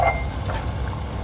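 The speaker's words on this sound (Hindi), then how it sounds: "अब इसमें हम 1 गिलास पानी डाल देंगे" A glass of water is poured into a pan of egg and potato curry, giving a short steady splashing pour that tapers off within about a second.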